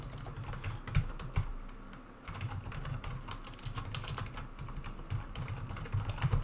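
Computer keyboard typing code for a C programming lesson, quick irregular key clicks in bursts with short pauses, close and clear, no voices.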